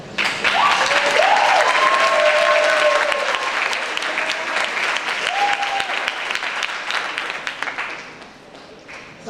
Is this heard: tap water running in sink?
no